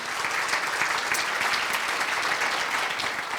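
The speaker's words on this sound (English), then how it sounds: "Another round of applause for him, please." Audience applause at a Marin County child care forum, steady and dense throughout at moderate level with no break.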